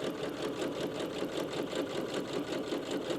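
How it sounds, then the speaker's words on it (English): A sewing machine top stitching close along a fabric edge of a foldable grocery bag, a steady, even whirring hum with a fast rhythmic needle pulse, close and continuous. "I'm just going to top stitch this edge first"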